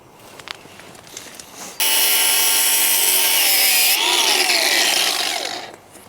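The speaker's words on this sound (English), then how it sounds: "Grinder it is." An angle grinder cuts through something stuck during a garden lighting installation, a loud, sustained high-pitched whine that shifts in tone midway for about four seconds before spinning down.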